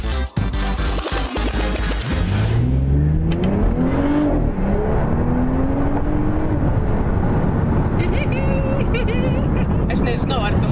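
Sporty Porsche Panamera accelerating hard: a sharp lurch, then a loud rising engine roar climbing through the gears with a shift, close and dominant inside the car throughout.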